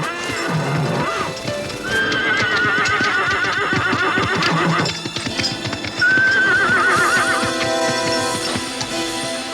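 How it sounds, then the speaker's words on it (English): Spooked horses on a creek bed whinny loudly, with several shrill neighs rising over a dense, continuous background. Hooves clip-clop throughout. "their horses were suddenly spooked"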